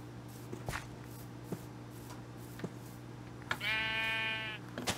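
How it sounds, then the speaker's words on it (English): A sheep in Minecraft gives a single clear bleat, close and moderately loud, after a few soft footstep-like taps over a low background hum. "Hey, sheep."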